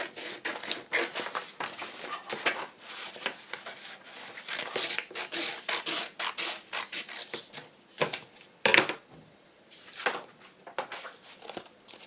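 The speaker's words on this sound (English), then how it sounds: "I'm going to trim it with my trimmer just to make sure that the edges are straight" Paper trimmer slicing along the edges of a masterboard sheet for a hinged journal, a steady run of close raspy scraping and rubbing strokes with brief pauses and a sharper crinkle near the end.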